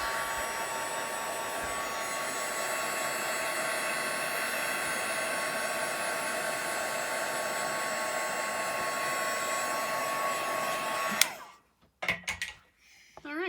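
A heat tool blows hot air over alcohol ink in a steady, loud, whooshing hum that holds for about eleven seconds, then cuts off abruptly and leaves a few soft handling noises.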